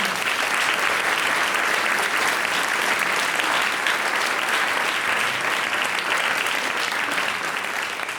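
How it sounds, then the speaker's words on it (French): A crowd at a 50th anniversary celebration applauds continuously, a dense, even wash of many hands clapping that stays steady and full throughout, with no speech over it. "on peut les applaudir, merci à vous"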